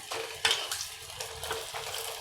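Food fries in a very hot frying pan as it is turned, with crackling sizzle and a few sharp scrapes and clinks of stirring across two seconds, close and moderately loud.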